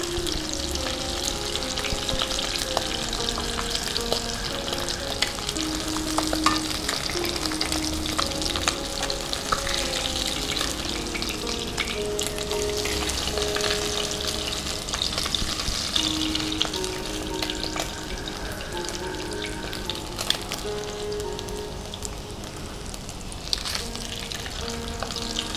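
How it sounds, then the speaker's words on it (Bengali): Rohu fish pieces frying in hot oil, a steady, close crackling sizzle that runs throughout with occasional stirring and scraping in the pan. "মাছ ভাজা হয়ে গেছে, তুলে নিচ্ছি।"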